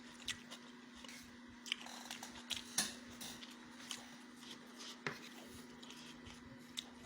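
Someone bites and chews salted duck egg, producing soft crunchy mouth clicks and chewing sounds scattered over several seconds against a steady low hum in a quiet room.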